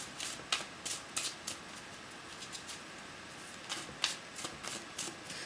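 Tarot-style cards are shuffled repeatedly at close range, a run of crisp riffling bursts with short pauses between them and no talking.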